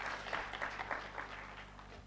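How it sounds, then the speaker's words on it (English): Audience applause for the Dean of Students during a university freshers' orientation, a steady wash of many hands clapping at moderate distance across the hall, sustained throughout without a break. "A warm applause for the Dean of Students."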